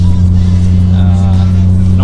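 Deep, steady drone of an 800bhp turbocharged Ford Falcon FG XR6 engine, a sleeper build, idling loud and close with strong low rumble and no other sound over it.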